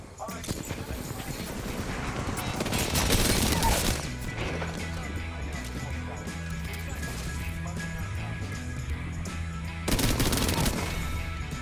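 Rapid automatic gunfire in Apex Legends while jump-shooting, dense bursts with louder volleys near the start and end, mixed with game effects and voices talking over it.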